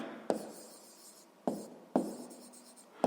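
Pen strokes on paper while working out a sixth-grade math problem: a few sharp taps and short scratchy scribbles separated by quiet gaps, close and faint, with no speech.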